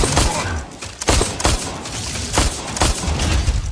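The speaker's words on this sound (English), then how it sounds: "Incoming fire." Gunfire in a sniper shooter video game, irregular heavy shots and booms landing every half second or so, loud and punchy over rumbling battle noise.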